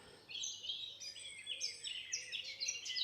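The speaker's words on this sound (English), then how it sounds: "So that loud one is a black cap, and there's a robin over here." A blackcap, a robin and a blackbird sing at once in spring woodland at Woody Head, Bonchurch, on the Isle of Wight, their bright overlapping phrases trilling continuously, one bird louder and nearer than the others.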